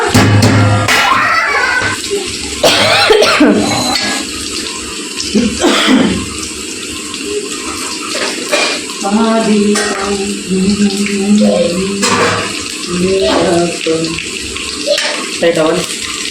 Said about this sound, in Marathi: ती थोडीशी धुवून घ्यायची स्वच्छ